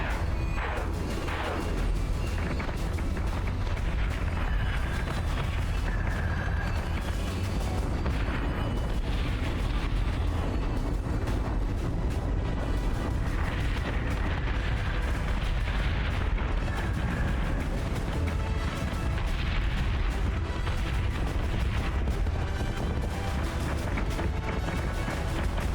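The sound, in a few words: artillery fire from a video game, Battlestar Galactica: Deadlock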